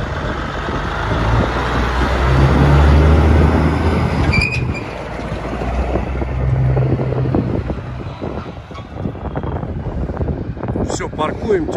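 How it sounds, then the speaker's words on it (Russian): A Kenworth W900L truck backing up with a 40-foot trailer, a loud low diesel rumble that swells and eases with engine revs, heavy wind buffeting the microphone and faint clanks of the rig moving. "Here's how you back up from the blind side with the little 40 footer."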